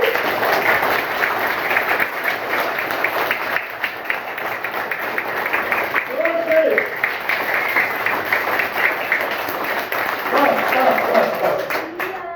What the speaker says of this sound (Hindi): बजाइए भाई ताली